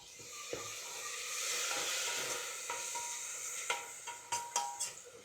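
Whisked yogurt going into hot sizzling masala in a pan, a steady hiss and sputter followed by several sharp spoon knocks and scrapes near the end, close by and without talk.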